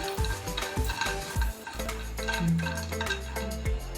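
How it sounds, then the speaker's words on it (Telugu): Cashews and almonds fry in a pan for Rakhi sweets, with a steady sizzle broken by repeated scraping stirs and light clinks of a spoon against the pan, close by and with no talking. "కాజు బాదం వేయించుకున్నాము."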